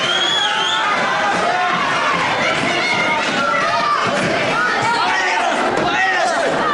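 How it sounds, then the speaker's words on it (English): A full Boston wrestling crowd at a bout, a steady roar of chatter and shouting voices with occasional thuds, close and loud, with commentary under it. "And a full Boston crowd for Barnes."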